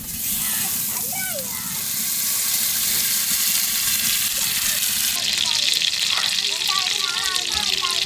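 Butter sizzles in a pan for a country-chicken butter chicken curry, a dense and continuous frying hiss that carries on steadily while a person talks over it.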